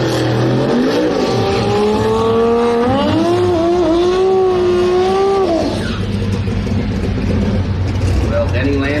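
A drag racing car launches down the strip at a Brisbane jamboree finals day, its engine note climbing steadily as it revs hard and pulls away, while a commentator talks over the roar throughout.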